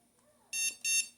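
Two sharp, high electronic beeps from a Pet Heys shock collar sound in quick succession, close and clear over a quiet background.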